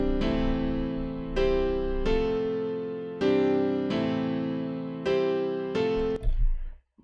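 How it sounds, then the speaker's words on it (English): Simple piano chords struck one after another, about six in a steady, unhurried sequence, each ringing out clearly before the next, with no voices. "I made just some simple piano chords so you can hear the difference"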